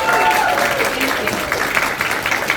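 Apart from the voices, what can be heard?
audience applause at a convention panel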